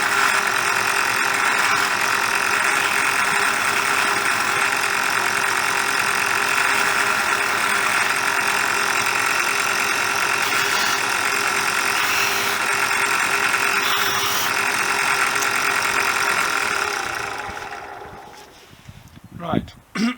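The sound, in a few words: slow-running wire wheel cleaning small nuts and bolts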